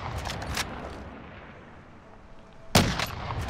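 Call of Duty Plunder gunfire: a burst of sharp shots at the start, a lull, then a loud close crack followed by more rapid shots.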